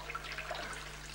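Broth poured over stuffed cabbage makes a brief, steady liquid trickle and splash, heard quietly and alone.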